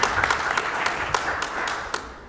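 Audience applause at a city commission workshop in Texas City, a few seconds of steady clapping from a room of people that tapers off toward the end, with no talk over it.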